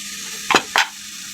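Spices such as cumin paste, ginger paste and chopped green chili hitting a hot pan for radish ghonto, two short bursts of sizzle and stirring over a quiet background hiss.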